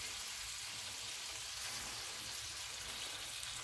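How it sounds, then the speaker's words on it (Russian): Steady, dense sizzling of onions frying in hot olive oil, a continuous crackle with no talking. "И будем сейчас обжаривать лук."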